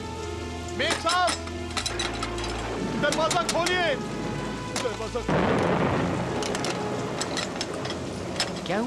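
Steady rain pours through the night with low thunder rumbling beneath it, the downpour growing heavier and noisier partway through, while people speak over the storm.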